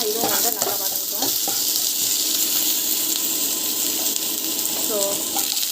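Onions with salt sauté in a pan with a steady, close sizzle, broken by a few scraping stirs of a spatula, with no talking.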